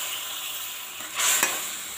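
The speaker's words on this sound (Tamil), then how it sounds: "இப்போ நம்ம வேக வச்ச காயை இதில் சேர்த்துக்கலாங்க." Cooked vegetables tipped into a pan of fried mustard seeds and fenugreek, giving a steady close sizzle with a brief louder hiss and stirring burst in the middle, no voices.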